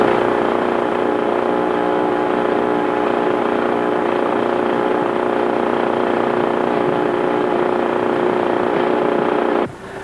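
Number 1 engine of a B-17 bomber starting and running, a loud, steady radial engine drone that holds evenly before dropping off sharply near the end.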